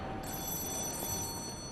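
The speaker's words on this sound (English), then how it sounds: "we're gonna pick up the phone" Telephone ringing inside the Lies of P video game, a steady electronic bell tone that holds unbroken and fairly faint across the moment under a quiet background hum.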